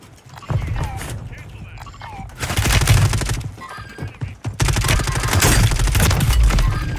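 Dense gunfire in Call of Duty Warzone, with bursts of rapid automatic shots coming in loud waves that grow heavier toward the end, mixed with game effects and a voice speaking over the action.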